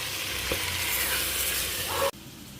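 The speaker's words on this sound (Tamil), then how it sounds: "இப்போ ப்ரான் வந்து நல்லா ஃப்ரை ஆகிட்டுருக்கு" Prawns fry in a pan for biryani with a loud, steady sizzle and some stirring, and the sound cuts off sharply near the end.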